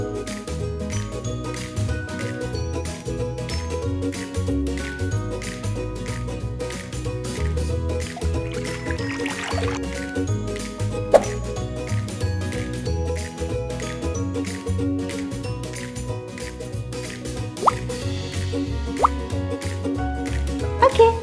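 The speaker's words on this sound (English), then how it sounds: "Now we have to put the water." Water poured into a container holding vinegar for dyeing Easter eggs, a run of soft plopping and dripping sounds with some small knocks, heard under light background noise.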